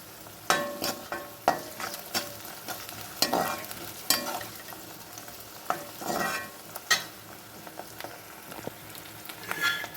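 Eggplant sizzles steadily in a hot pan while a utensil scrapes and stirs in irregular clacks, close up with no talking.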